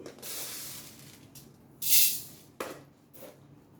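Fenugreek seeds sizzle in hot oil for temple-style pulihora, giving several separate hissing bursts that rise and fade, with one sharp loud spurt in the middle.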